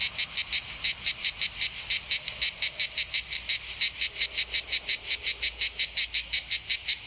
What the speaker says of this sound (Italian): La danza delle cicale.